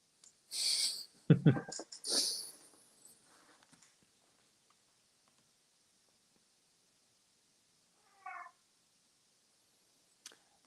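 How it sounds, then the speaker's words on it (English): A house cat makes a couple of loud, close vocal sounds near the start, followed by a brief faint noise later and a small click near the end, with long quiet gaps between. "here's my cat."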